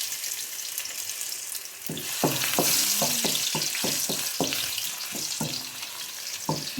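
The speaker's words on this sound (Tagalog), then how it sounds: "mainit yung kawali, maglagay na tayo ng mantika kasi magigisa na tayo ng sibuyas at saka bawang at luya" Ginger sautéing in hot oil in a pan for jackfruit in coconut milk with crab, a loud continuous sizzle with a burst of rapid spoon scrapes and clacks against the pan in the middle.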